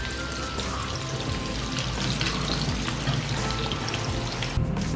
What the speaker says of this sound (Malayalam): എല്ലാം അതേപോലെ നമുക്ക് വറുത്ത് കോരി എടുക്കാം.